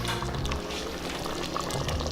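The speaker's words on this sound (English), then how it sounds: "Listen to this thing boil." Liquid bubbling in a cooking pot of chicken and pineapple with rice, a steady close gurgling boil with busy churning texture throughout, no talking.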